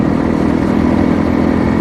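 Honda CRF motorcycle engine running at a steady, loud, close drone with a rough mid-pitched rumble and no pauses or talk.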